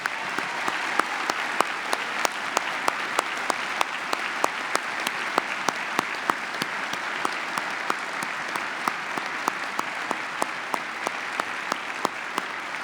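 An audience at a commencement ceremony gives sustained, even applause for graduating seniors, a dense steady clatter of many hands with a few sharper nearby claps standing out throughout.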